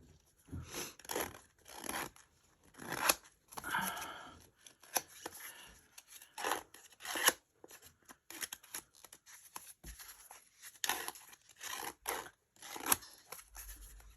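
Sketch paper being scuffed and rubbed by hand, a series of short, dry scratching and rustling bursts in an irregular rhythm, close and fairly quiet, with brief pauses between strokes.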